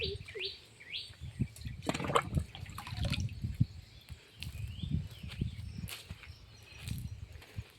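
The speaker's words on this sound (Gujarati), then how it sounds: "ચાલો આપણે હવે પરબમાં પાણી નાખશું" Water is poured and splashed into a bird water trough on a farm, with dripping and gurgling bursts and bird chirps and tweets close by.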